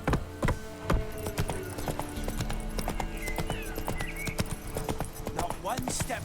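Horse hooves clip-clopping in Witcher 3, a steady run of sharp close hoofbeats with an occasional whinny, over a game soundtrack and some voices.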